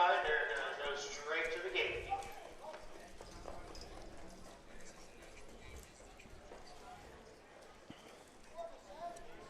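Harness racing horse parading past the grandstand at a county fair, hooves clip-clopping steadily on the track amid crowd noise while people talk nearby.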